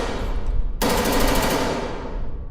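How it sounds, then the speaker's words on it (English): Gunfire in a retro survival horror video game: a sudden burst of rapid automatic shots, loud and close, that breaks in after a low rumble and rings out into a decaying echo. "gunshots."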